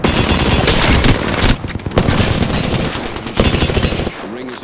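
Rapid, dense video-game gunfire crackles almost nonstop at close range and high volume, with brief lulls between sustained automatic bursts.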